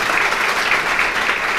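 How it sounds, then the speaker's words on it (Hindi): Clapping from the audience at a book release ceremony honoring a speaker, a short burst of dense, steady applause that fills the whole moment without any voices. "तो एक बार सर के लिए तालियां बजाइए।"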